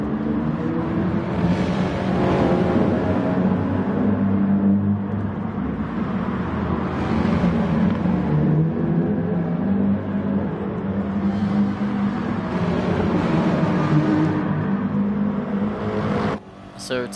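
Race cars lapping Laguna Seca in a racing video game, a Subaru WRX among them, with a sustained engine drone that rises and falls through gear changes, steady and fairly loud throughout, cutting off abruptly near the end.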